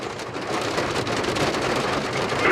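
Steady rain falls during a storm in South Bend, heard from inside a car as a dense, even patter of drops hitting the surface, fairly loud and continuous with no voices.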